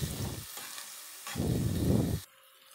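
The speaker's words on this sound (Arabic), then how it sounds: "حطيت شويه زيت عشان نحط البصل والفلفل على الزيت، ونقلب كويس" Onions and peppers sizzle and crackle in hot oil, stirred in two loud bursts with a short quieter gap between them, close up and without talk, then cutting off abruptly.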